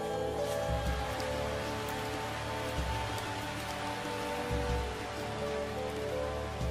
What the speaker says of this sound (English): Their sensitive hearing amplifies the sound of rain on leaves